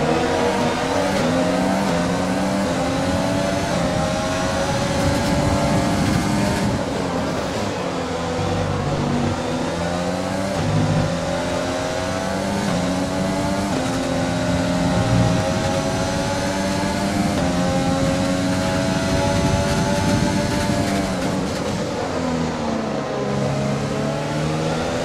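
A Formula 1 race car in the F1 2020 video game leaves the pits in Spain. Its engine drones loud and close throughout, the pitch climbing and dropping with gear changes, with no talking.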